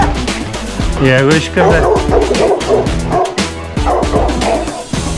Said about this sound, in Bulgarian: Тек си лай, той си пази къща.